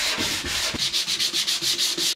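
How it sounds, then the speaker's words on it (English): Sanding a carbon composite battery cover mold, with steady rhythmic back-and-forth rasping strokes, about a dozen in quick succession, close and loud with no talk. "and a lot of sanding."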